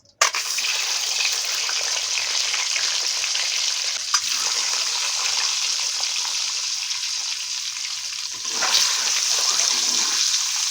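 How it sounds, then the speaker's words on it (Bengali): Eggs fry in hot oil in a wok for a Bengali egg curry, giving a steady loud sizzle throughout with a brief louder crackle near the end. "এবার আমরা ডিমটাকে ভেজে নেব, এই তেলের মধ্যে আমরা ডিমটাকে ভেজে নেব।"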